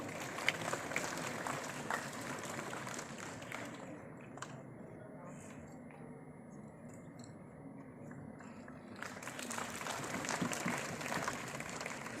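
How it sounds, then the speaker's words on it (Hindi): Audience applause at a World Tuberculosis Day 2026 event with India's health minister, a steady crowd of clapping filling the space, thinning briefly mid-way before swelling again, with faint voices mixed beneath. "इन्हें भी तालियों की शुभकामनाएं दें।"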